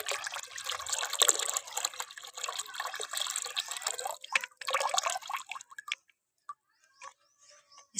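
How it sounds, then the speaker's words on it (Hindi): Water dripping and trickling as homemade liquid plant fertilizer is strained into a container, a busy splashing patter that thins into sparse separate drips and then near silence. "अब हम इसे छान लेंगे।"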